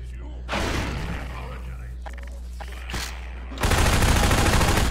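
Guns firing at enemies in Half-Life 2, with scattered shots early on building to a loud, sustained burst of rapid fire at the end, over a low game hum.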